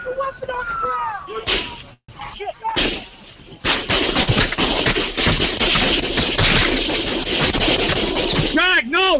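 Staged gunfire effects in a radio comedy skit about shooting police, loud bursts of shots and crashes running dense and continuous through most of the stretch, with voices talking over the start and a short pause before the barrage.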